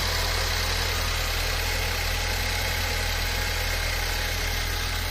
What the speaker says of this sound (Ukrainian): Ось так працює наш двигун, стійко, не трусить його.